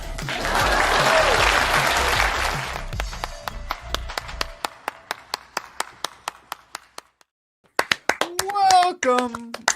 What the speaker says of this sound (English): Please clap.